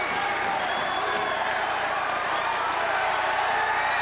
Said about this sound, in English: Milks the applause